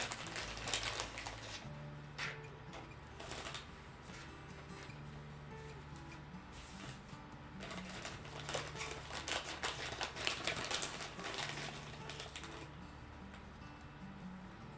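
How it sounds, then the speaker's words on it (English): Small sewing supplies in plastic bags crinkle and rustle close by, in quiet, irregular bursts of crackling and soft handling that continue throughout, with faint background hum and no talking. "Sorry, a lot of crinkle noises tonight. A lot of these are in bags."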